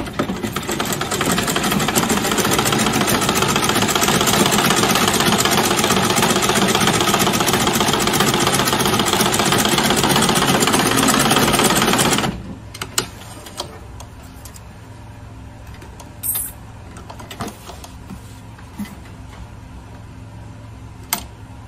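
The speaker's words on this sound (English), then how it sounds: "So I'll just be top stitching on the brim that way." A sewing machine top-stitches the brim of an Ankara-fabric baseball cap, running in a loud continuous whirr for about twelve seconds before stopping, followed by quieter handling clicks and taps.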